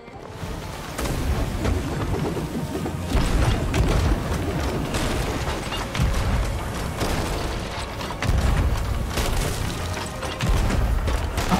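Naval cannon fire in the pirate game Sea of Thieves lands as repeated heavy booms and rumbling blasts across the whole stretch, amid ship creaks and wave noise, with no voices.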